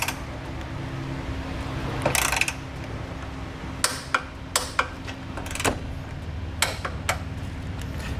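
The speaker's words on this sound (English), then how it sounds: "with the 9/16 socket and a torque wrench, I'm going to torque down all my hardware in the side of the frame" A torque wrench with a 9/16 socket tightening frame bolts on a 2018 Ford Focus during a Blue Ox base plate install, giving a series of sharp metallic ratchet clicks and knocks spaced irregularly over a quiet background.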